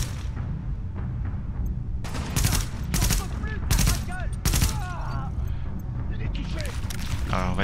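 Rapid bursts of weapon fire in The Division video game, Times Square mission, crack out in several loud volleys of shots over a steady background rumble, with someone talking underneath.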